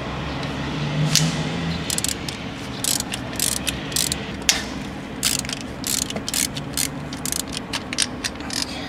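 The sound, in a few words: ratchet removing timing belt tensioner bolts on Mitsubishi 2.4L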